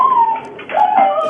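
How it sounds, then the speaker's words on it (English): Dogs reacting to a doorbell: a dog whines and howls in a drawn-out, wavering tone, with a brief pause before a second rising cry; fairly loud and close. "so we can hear the dogs barking on the bell"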